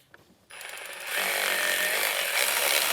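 A power tool runs steadily on bolts in the engine bay of a 2007-2013 Acura MDX during knock sensor replacement, starting abruptly after a quiet moment and holding a loud, continuous buzzing whir to the end.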